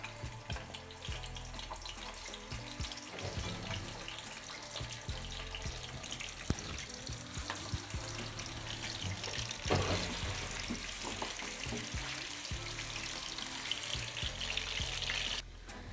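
Chicken pieces frying gently in warm oil for a green chicken karahi, a dense steady hiss and crackle that sounds almost like running water, fairly quiet and continuous with no talking.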